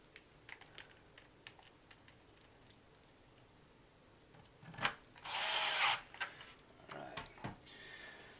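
Screws being driven back into a Nintendo NES console, a run of small sharp clicks and ticks from a screwdriver, then a brief whirring burst of a powered screwdriver near the middle, close and quiet with no talking.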